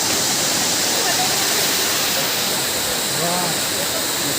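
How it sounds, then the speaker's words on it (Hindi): A waterfall pours down from a height with a constant, loud roar of rushing water close by, while someone speaks faintly under the noise. "केते ऊंचार पानी पड़े आप देखिपे ऊपर तो पानी खसु आसी पानी तले जाके पड़ुची"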